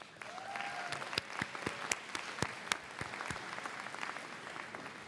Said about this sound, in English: Take a moment to give yourself another round of applause.